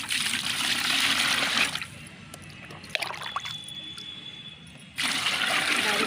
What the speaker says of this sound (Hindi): आप इसको एक बकेट या कंटेनर में इस पानी को डाल